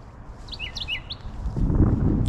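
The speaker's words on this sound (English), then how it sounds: "It's a tiny bird, but with a big mouth. Very loud." A tiny bird sings loudly close by in a lawn-care setting, with rapid high chirping phrases repeated in short bursts, then a rise in low background rumble toward the end.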